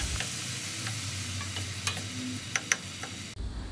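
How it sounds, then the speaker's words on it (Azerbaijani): Onion and tomato fry in oil in a pan, a steady soft sizzle with occasional sharp clicks and scrapes of a utensil stirring, close up and without talk. "Soğan yumşalandan sonra pomidorunu əlavə edib pomidorla qovururuq."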